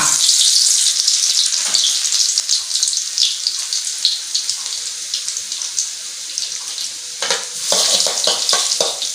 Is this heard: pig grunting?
no